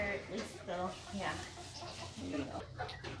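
Chickens cluck softly in a new coop in a barn, faint fowl calls mixed with people talking quietly nearby.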